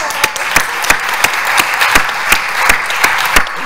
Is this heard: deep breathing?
no